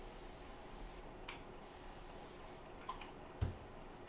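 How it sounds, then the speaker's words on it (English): Cooking spray hisses onto the back of bread slices for a French onion grilled cheese, a soft steady spray faint under kitchen room noise, ending with a couple of small clicks and a light thud. "I'm gonna spray the back side."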